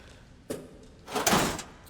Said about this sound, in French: les animations de 45 minutes pour ouvrir un tiroir